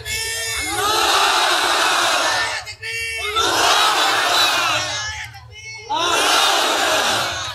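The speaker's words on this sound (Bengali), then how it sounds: "কে আছো দাঁড়িয়ে যাও, দাও তাকবীর, 3টা তাকবীর দিবা জোরে সোরে।" A large crowd at a gathering in Dubalhati, Naogaon, roars the takbir three times in unison. Each shout is a long, loud, sustained swell, with brief pauses between the three.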